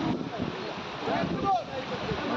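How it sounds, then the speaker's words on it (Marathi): Floodwater from heavy rain rushing along a road in Purna village, Bhiwandi, as a steady, close, broadband roar of moving water that continues without a break, with faint voices now and then. "रोडवरती पाण्याला स्पीड बघा किती आहे."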